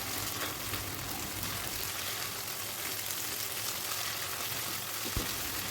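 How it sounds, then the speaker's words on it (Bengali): Meat mixed with tomato sauce fries in a pan, giving a continuous soft, even sizzle like light rain, with one brief clack near the end. "এরপর মাংসের সাথে ভালো করে মিক্স করে একটু ভাজি করে নিলাম।"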